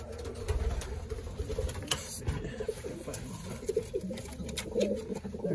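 Racing pigeons coo softly throughout a loft, low repeated coos overlapping amid rustling, shuffling and faint clicks, fairly quiet and close by.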